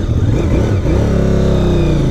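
A Honda VTR1000SP2 big motorcycle engine struggles on a forest track, loud and close. It dips briefly, then catches and climbs in pitch, running rough and uneven with no speech.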